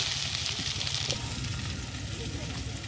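Chopped onion, with whole white cumin and crushed garlic, fries in hot oil for a mutton curry, giving a steady, close sizzle with faint stirring scrapes throughout.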